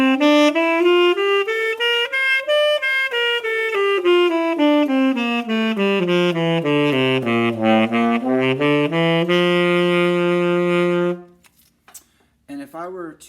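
An instrument plays a scale in a key down to its lowest note, B natural, then climbs back up to G. The steady legato notes are close and clear, and the run ends in near silence.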